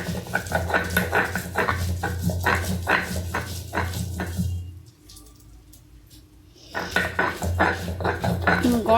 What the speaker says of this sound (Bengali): পাতাটা এবার বাটবো।